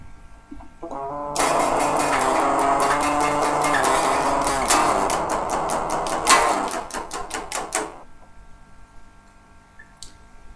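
A distorted electric guitar riff chugs with tight palm-muted strums, played loudly for several seconds before cutting off into near silence.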